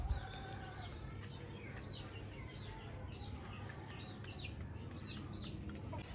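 Soft clucking and chirping from desi chickens over a constant low background hum, several birds calling intermittently at a distance.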